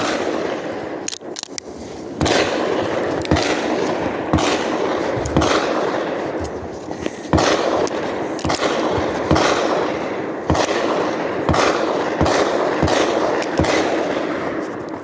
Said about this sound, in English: every time I hear that bang, that's another piece of brass I'll be able to go collect it later